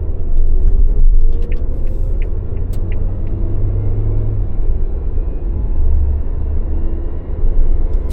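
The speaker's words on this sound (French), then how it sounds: "Tu entends le bruit du moteur?" A vehicle engine with the deep, old-bus character of an aging motor rumbles heavily and close on the N17 road in Togo. It holds a constant low drone with a few faint clicks and rattles above it, and no voices.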